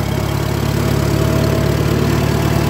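A tractor engine runs steadily after being given throttle, a loud, close, even mechanical drone with a rapid low thrum and no talking.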